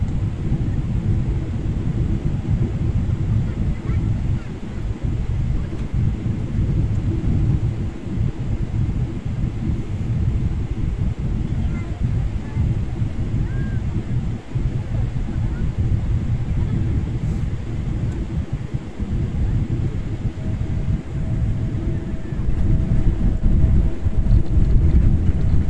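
Airliner landing at Dubai on a flight from Kochi, heard from inside the cabin as a loud, steady low roar and rumble of engines and airflow that swells slightly near the end.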